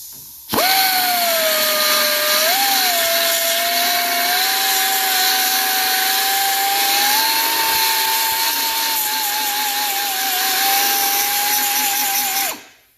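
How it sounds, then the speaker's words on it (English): An 8mm spot weld drill bit cuts through spot welds on a Fox Body car quarter panel, one steady, loud whining drill run of about twelve seconds with shifting pitch, alone with no talk. "You'll need an 8mm spot weld drill bit in size"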